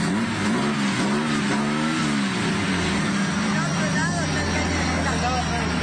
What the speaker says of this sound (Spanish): Escuchen el Falcon.